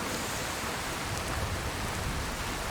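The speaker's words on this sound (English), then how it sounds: "Well, it is raining" Steady rain falls in The Elder Scrolls V: Skyrim, a dense, even hiss of constant moderate loudness with no other sounds.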